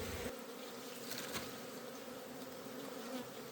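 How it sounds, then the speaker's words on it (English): A large swarm of bees, around 60,000, buzzing in an opened hive, a dense, continuous droning hum that stays steady and close throughout, with no talking. "now you see it's basically just a whole lot of bees"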